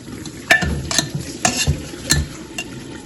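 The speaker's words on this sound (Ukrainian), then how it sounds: "Дивіться, кипить як." Plov broth bubbling in a hot cast-iron Afghan kazan, a steady seething sizzle broken by several sharp metallic clinks and scrapes of a utensil against the pot.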